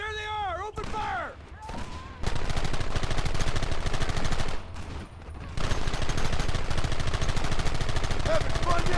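Sustained, loud gunfire from a Red Dead Redemption shootout on PC: rapid repeated shots and bursts fill most of the stretch, broken by brief lulls, with shouted voices and tonal game sounds early on.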